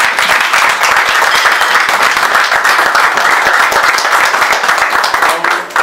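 Vigorous audience applause at a development discourse gathering, a dense close clatter of many clapping hands continuing evenly throughout and easing slightly at the very end.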